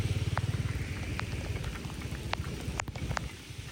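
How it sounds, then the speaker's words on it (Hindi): Rain falling hard on surfaces, a dense crackling patter with scattered louder drops, steady and close throughout. "बहुत ही जोर से बारिश आ गई है।"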